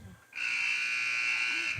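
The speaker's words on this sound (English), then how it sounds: "Buzzer has sounded." A loud, sustained electronic buzzer blares for about one and a half seconds in a high school basketball gym, a steady harsh tone that starts abruptly and cuts off near the end.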